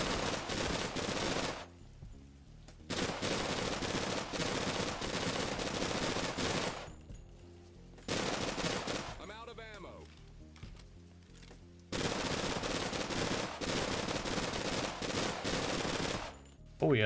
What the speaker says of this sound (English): Oh yeah, the submachine guns are mighty.